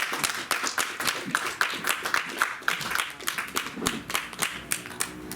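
Audience clapping after a poetry reading, a scattered round of individual hand claps, fairly close and distinct, keeping up a loose steady rhythm throughout with faint murmuring underneath.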